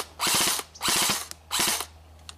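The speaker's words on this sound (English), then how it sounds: "getting some dry fires" A Classic Army M4 airsoft gun dry-fires in three separate bursts, each a rapid mechanical ratcheting whir of about half a second, with brief pauses between. The sound is close and clear, with a low hum underneath.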